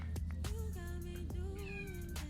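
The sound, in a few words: cat meowing to come in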